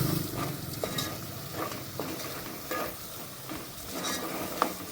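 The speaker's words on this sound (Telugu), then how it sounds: "2-3 నిమిషాల వరకు మంచిగా ఫ్రై చేసుకోవాలి," Bangda fish curry base frying on a high flame, with a continuous sizzle and repeated scraping stirs of a spatula in the pan, close up and with no talking.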